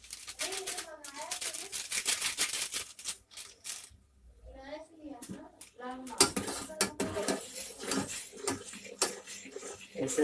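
Macaroni being stirred in a pan over raised heat, the spoon scraping and clinking against the metal in short repeated bursts, while someone talks over it.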